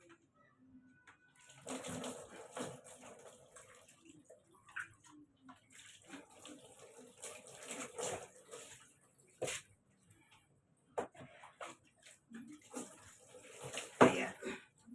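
Water is poured from a basin over a dog during its bath, making splashing bursts that come and go with quiet gaps, and faint talk now and then.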